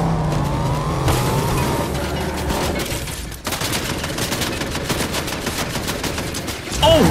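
A car engine roars in Fortnite amid rapid gunfire, with skidding tires and a continuous loud mix of motor and shots throughout.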